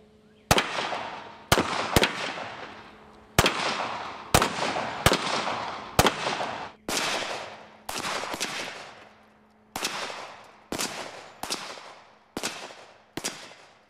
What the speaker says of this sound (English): But what happens if you get multiple shots all at the same time?